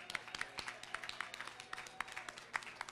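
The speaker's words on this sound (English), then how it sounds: "Please give them a round of applause." Scattered clapping from an audience at an outdoor Alberta breakfast event, a steady patter of many hands at moderate distance with a few sharper, closer claps standing out.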